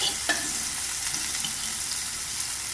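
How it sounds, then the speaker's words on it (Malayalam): Mustard seeds and curry leaves frying in hot oil in a pan give a steady, close sizzle with light crackle that runs throughout, with no talking. "കടുക് പൊട്ടിയതും കറിവേപ്പില ഇടാം"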